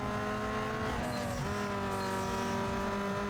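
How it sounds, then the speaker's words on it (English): Race car engine exhaust in Need for Speed Underground 2 drones with a steady, rasping harmonic tone; the pitch dips and climbs again midway through as a gear changes, and the engine stays loud and continuous throughout. "I can hear that horrendous exhaust."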